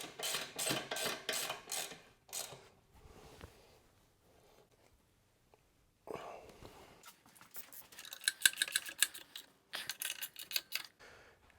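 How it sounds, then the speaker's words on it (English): Rapid ratcheting clicks from a wrench tightening bolts on the rear bracket of a KTM 790 Adventure skid plate, close and crisp in several bursts separated by a quiet pause. "we can come to the back and do a final tighten on the rear bracket"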